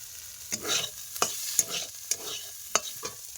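Frying lentils being stirred in a pan, a soft sizzle broken by several sharp scraping strokes of the spatula at irregular intervals, close and clear with no talking.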